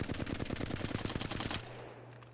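Rapid automatic gunfire from a weapon in the Apex Legends video game: a fast, even burst of about a dozen shots that stops abruptly, leaving a faint low hum.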